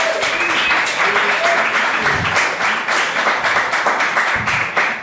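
Audience applause at a live event, a lively burst of many hands clapping that rolls on steadily for several seconds, with a few voices mixed in.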